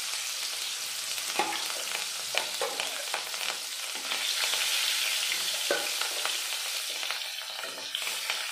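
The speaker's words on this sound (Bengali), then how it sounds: "মাছটা ভাজা হয়ে গেছে" Fish frying in a pan in a rural kitchen gives a loud, steady sizzle with bursts of crackling and occasional scraping stirs, close up and continuous, with no talking.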